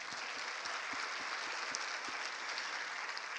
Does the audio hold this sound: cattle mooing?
no